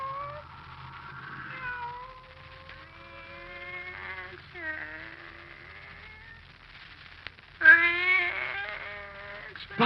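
A cat meows repeatedly in a radio drama scene, a run of drawn-out, wavering cries that grow louder and more insistent toward the end, over a faint low hum.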